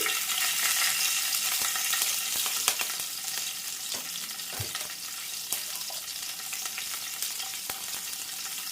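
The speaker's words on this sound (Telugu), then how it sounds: "ఎండుమిరపకాయలు మిరపకాయలు ఒక పచ్చిమిర్చి చీలికలు కలిసి వేసుకోండి" Dry red chillies and slit green chillies fry in hot tempering oil with a constant close sizzle and spatter, broken by a few sharper pops and stirring clicks, and no one speaks.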